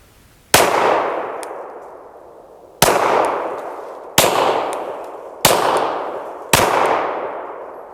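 Five sharp, loud pistol shots crack out during a trigger finger drill, each with a ringing decay, spaced unevenly a second or two apart at an outdoor range.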